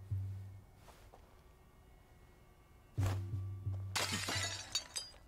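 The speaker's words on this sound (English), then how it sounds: "Maybe by throwing one of these pots." A clay pot is thrown and shatters in the video game A Plague Tale: Innocence. There is a soft thud, then a loud crash of breaking pottery with scattered fragments clattering over low, hushed game ambience.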